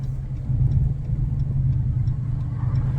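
A 2021 Ram 1500 fitted with a Borla S-Type cat-back exhaust gives off a deep, steady low rumble, close and fairly loud, with a faint ticking above it and no sharp rise in revs.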